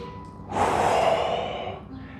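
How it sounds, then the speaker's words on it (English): A single deep breath drawn in and let out slowly as a breathing exercise, a loud, close airy rush with no talking. "So the first thing is deep breathing,"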